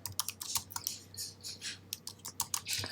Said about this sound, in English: I'm going to type in sending